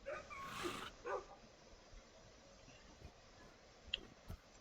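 Dogs in the Minecraft video game give a few soft yips and barks at the start. After that only faint clicks remain in a quiet scene.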